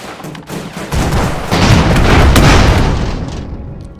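Airship cannons firing in the video game Airships: Conquer the Skies, a dense rumbling barrage of overlapping booms that swells after the first second and holds loud before tapering off.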